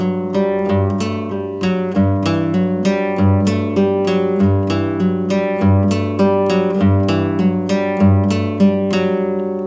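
Fingerstyle guitar plays a repeating riff of hammer-ons and pull-offs over a sustained low G bass note, each note ringing into the next in a steady rhythm, clear and close with no talking.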